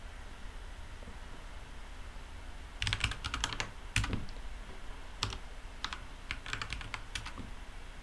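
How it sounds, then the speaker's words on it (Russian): A password being typed on a computer keyboard, with close, crisp key clicks in uneven bursts starting after a few seconds of quiet hiss, alone with no talk. "Я пытаюсь, видите, уже ввести пароль"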